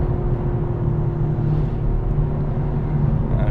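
Toyota GR Yaris engine pulling steadily along a twisty road at about 50, a continuous loud low drone heard from inside the car with no talking.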